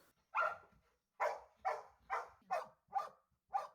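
Fire brigade rescue dogs at a storm landslide site bark seven times in a steady, evenly spaced series, sharp and fairly quiet, as if heard from some distance.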